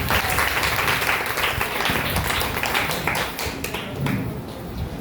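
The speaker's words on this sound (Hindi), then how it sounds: "इन भक्तों के लिए जोरदार तालियां बजाते हैं" Devotees at a Guru Purnima festival gathering clap loudly and continuously, a thick, steady roar of applause with no talk over it.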